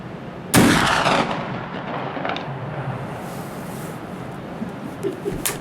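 A single loud rifle shot cracks out at an outdoor shooting range in Gimmelwald, with a sharp onset and a long rolling echo that fades over several seconds amid faint ambient birdsong.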